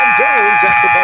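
A basketball game-ending buzzer blares as a loud sustained electronic drone in a boys' high school gym, with a commentator talking excitedly over it.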